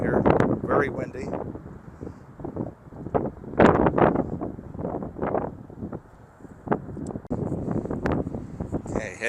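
Strong wind buffets the microphone at a high lookout, gusting in loud uneven bursts throughout while a person talks over it.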